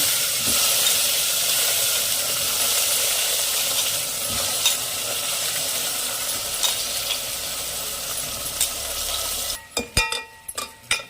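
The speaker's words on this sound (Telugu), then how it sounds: "ఇట్లా ఫ్రై చేయాలి మంచిగా నూనెలో" Taro pieces fry in oil for a Telangana tamarind stew, making a continuous loud hissing sizzle, and sharp scraping and clattering from stirring close by come near the end.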